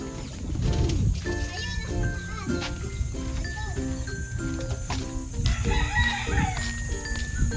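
A rooster crows several times, clear and fairly close, while voices chatter and other birds call in the background.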